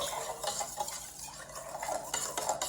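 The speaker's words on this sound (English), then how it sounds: "we're just gonna whisk it a little more" A whisk stirs activated yeast mixture for focaccia dough in a bowl, making a steady, close scraping and clinking against the bowl's sides in quick repeated strokes, with no talking.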